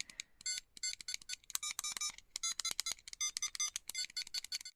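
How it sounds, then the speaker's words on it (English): Rapid bursts of high electronic beeps from the small mono speaker of an Arduboy FX-C handheld game console, chirping in quick irregular runs without pause. "This is also the mono beep speaker in here."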